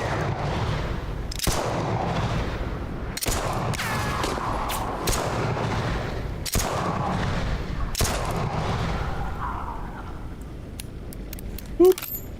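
Enemies shooting in the video game SAND: Raiders of Sophie, several sharp gunshot bursts at irregular intervals over a steady engine-like rumble, with a brief metallic jingle near the end.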